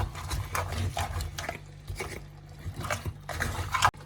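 A spoon scrapes and sloshes through a village-style mud crab curry just after coconut milk is poured in, giving a run of close, rhythmic stirring strokes with a wet, liquid edge.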